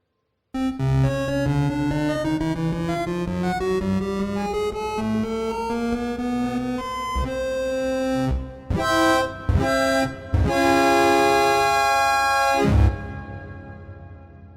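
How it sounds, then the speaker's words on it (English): A microtonal scale of 31 notes per octave rises steadily step by step as one sustained pitched tone, then a few separate notes and chords follow with short gaps before it cuts off; no talk. "to take a listen to a microtonal setup, 31 notes per octave"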